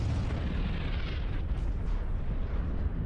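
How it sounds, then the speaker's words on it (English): Sucker punch laser cannons firing in the Star Citizen video game, a dense, loud, continuous blasting roar with booming low rumble that holds steady for about three seconds. "those blue lasers that I'm firing, those are sucker punch cannons"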